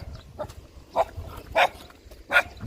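A dog barks in four short, sharp yaps spaced about half a second apart over a low background hum, close and moderately loud.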